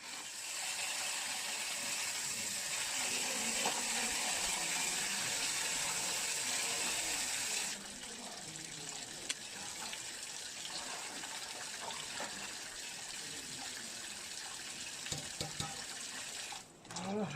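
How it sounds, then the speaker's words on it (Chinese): Wild spring greens are rinsed under a running kitchen tap, a loud steady gush for about eight seconds that then stops, followed by quieter splashes and handling clatter. "好了，清洗干净。"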